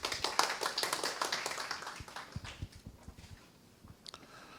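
Audience clapping welcomes a presenter to the front at a community cultural forum in Geumcheon, Seoul; a scattered patter of claps that is fairly dense at first, thins out and fades into a few isolated claps.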